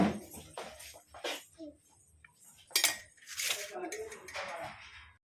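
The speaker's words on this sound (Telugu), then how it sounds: "బగారా రైస్ అయితే ఇప్పుడు వేసేస్తున్నాం ప్లేట్లో." Bagara rice for a country-chicken meal is served onto a plate with scattered clinks and scrapes of a spoon against dishes. The sounds come in short bursts, and people talk nearby.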